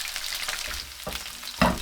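Golden fish pieces pan-frying in oil as the pan is tilted to drain it, giving a steady close sizzle broken by a few louder crackling bursts, with no talking.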